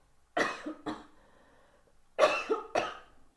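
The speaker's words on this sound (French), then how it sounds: "Je tousse un petit coup parce que je ressens une gêne dans la gorge." Two pairs of sharp coughs, close and fairly loud, separated by a quiet pause, with no talking.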